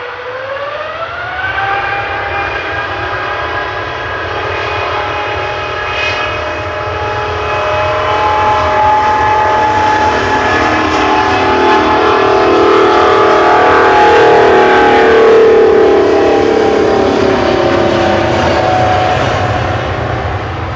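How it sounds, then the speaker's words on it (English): A passenger airliner taking off at Manchester Airport, a loud, growling jet roar with whining engine tones that builds and swells close by, then holds steady and strong throughout. "That was a growly takeoff."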